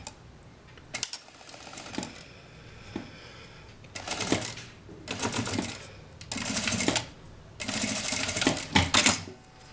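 A sewing machine runs a topstitch seam on fabric scraps in bursts, rapid mechanical whirring runs separated by pauses and small clicks, close and moderately loud.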